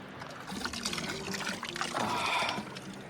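Cold mountain spring water runs from a tap beside a 500-year-old Swiss mountain settlement, a steady trickle and splash heard close with soft background noise.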